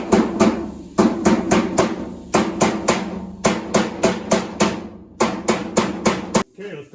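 A finish hammer strikes a rubber block against the sheet metal door skin of a 1971 Nova, in loud, close, ringing blows that come in quick bursts of three or four with short pauses between.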